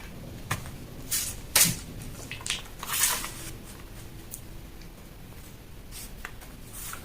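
Scratchy marker or pen strokes on a paper dress pattern, several short swipes in an irregular rhythm, close and fairly quiet, with light rustling between.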